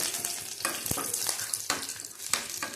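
Garlic, dried red chillies and curry leaves sauté in hot oil for a lentil curry, a close, bright sizzle broken by several sharp spoon scrapes and knocks against the pan, with no one talking.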